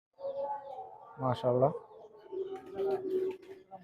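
A Maya pigeon, an imported Pakistani high-flying breed, coos in soft low bursts close by while someone talks over it.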